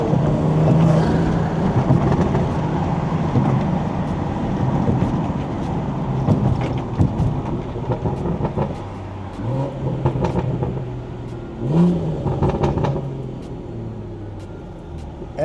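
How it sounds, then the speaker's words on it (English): B58-engined BMW 340i driven at night, intake roaring and rising with revs, with short bursts and blips on downshifts under steady road and cabin noise, no talk. "And the downshifts, you can still hear the intake."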